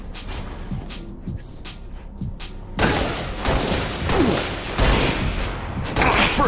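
DMR rifle fire in the video game Halo Reach: loud single shots and booming impacts in quick irregular succession, with thuds and explosions from the match underneath.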